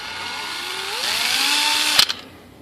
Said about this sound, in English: We'll get the drill. We've already got a little midget drill bit in there.